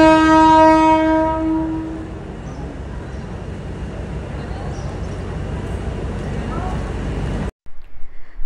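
A passenger train on the Colombo to Nuwara Eliya line sounds a loud, sustained horn as it pulls in, then rumbles and rattles steadily along the rails close by before cutting off abruptly.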